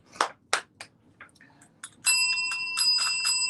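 A few short taps and clicks come first, then a bicycle-style bell rings out close and bright, a sustained metallic ring with repeated strikes.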